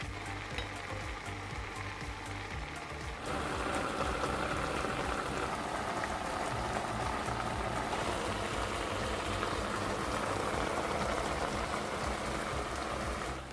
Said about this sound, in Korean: 남은 대파를 넣은 후 국물을 끼얹어가며 중불에서 자작해질 때까지 끓여줍니다